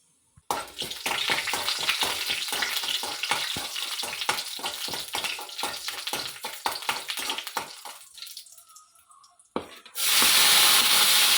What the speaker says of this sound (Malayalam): അത് ചേർത്ത് വഴറ്റിയെടുക്കണം